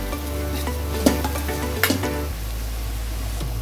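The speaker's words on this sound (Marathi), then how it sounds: "आता हे छानपैकी असं कांदा आणि टोमॅटो फ्राय करून घेऊया।" Onion and tomato fry with red chilli masala in a pan, a steady close sizzle with a few sharp spatula scrapes and clinks against the pan partway through; no one speaks.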